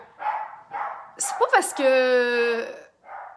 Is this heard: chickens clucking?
no